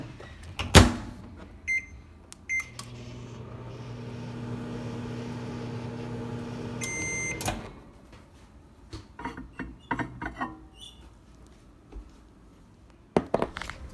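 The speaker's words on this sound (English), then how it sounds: "So now pop it in the microwave for 1 minute increments." A microwave oven hums steadily for a few seconds while melting candle slime, ending with a beep and a door clunk, framed by nearby handling knocks and rustles.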